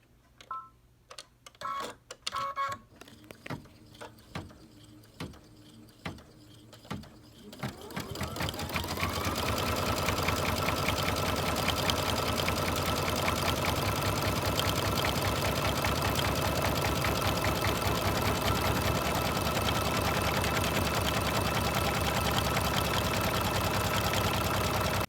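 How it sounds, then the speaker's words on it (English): An embroidery machine sews out a rosebud overlay design in the hoop. Sparse clicks and taps give way to a loud, continuous, rapid mechanical stitching hum that runs steadily to the end. "we're back at the machine, and I'm going to sew the next step out and show you how that goes"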